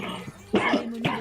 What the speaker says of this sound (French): Pourquoi tu tousses comme un chien?